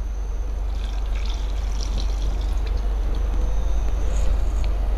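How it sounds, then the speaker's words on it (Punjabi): A bowl of vinegar is poured into a drumstick pickle, giving a soft continuous trickle over a steady low background hum, with no voices. "ਇਹਦੇ ਵਿੱਚ ਆਪਾਂ ਪਾ ਦਾਂਗੇ ਇੱਕ ਕੌਲੀ ਇਹ ਸਿਰਕੇ ਦੀ।"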